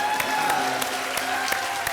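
A studio audience at the Indian game show 10 Ka Dum claps steadily throughout, a dense, even patter of many hands with a few sharper individual claps standing out.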